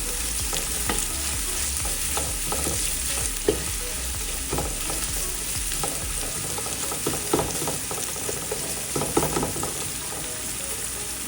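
Sliced onion and bay leaves fry in oil for chicken biryani, a steady close sizzle with frequent scraping stir strokes layered over it throughout, no talking.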